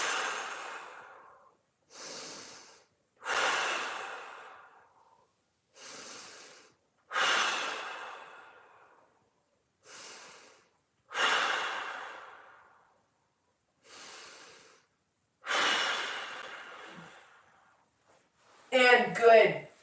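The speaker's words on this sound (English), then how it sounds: "now we have 5 big breaths" Slow, deep breaths repeat at an even pace during a hip mobility exercise, about ten inhale-exhale cycles separated by quiet gaps, close and clear, ending in a rougher, shakier exhale.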